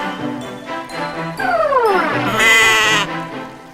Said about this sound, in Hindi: आपने मंगवाई हुई बकरी।